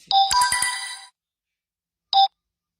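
Incoming call ringtone on a mobile phone: a loud, close electronic melodic chime lasting about a second, then silence and a short repeat of the opening note.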